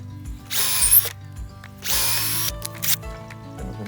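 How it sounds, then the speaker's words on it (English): A power drill whirs in a few short bursts drilling pilot holes in a gate, speeding up and slowing between them, close by with a low mechanical hum underneath. "we'll drill a couple of pilot holes here"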